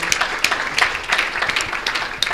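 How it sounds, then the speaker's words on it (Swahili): An award ceremony audience at a business SDG awards event in Dar es Salaam breaks into a burst of applause, with dense overlapping hand claps that stay steady and fairly loud throughout. "naomba makofi mengi kwa wote"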